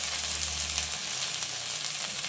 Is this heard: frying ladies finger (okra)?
yes